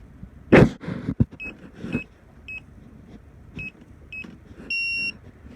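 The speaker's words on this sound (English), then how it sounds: "I'm going to push and hold the set button until it beeps." A Defiant keypad door lock gives several short electronic beeps at irregular intervals while being programmed, ending in a longer steady tone, with some clunks and handling noise.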